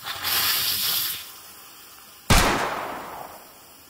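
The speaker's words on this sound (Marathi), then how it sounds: "पाणी टाकते, गरम पाणी घ्यायचं." Hot water is poured into a pan of roasted semolina for sheera: a soft hiss first, then a sudden loud burst of sizzling steam that slowly fades.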